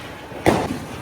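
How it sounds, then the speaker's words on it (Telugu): A single Diwali firecracker bursts in a street: one sharp, close bang midway through, followed by a brief fading rumble. "వీళ్ళు టపాకాయలు కాలుస్తారు"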